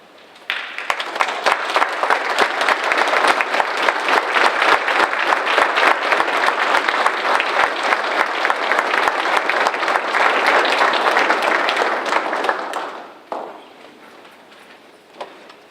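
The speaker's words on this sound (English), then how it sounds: "I'd like for the audience to indulge me by standing and giving these young people a round of applause" A standing audience at a school district military enlistment recognition ceremony gives young enlistees a sustained round of applause, loud and steady for about twelve seconds before tapering off into quiet.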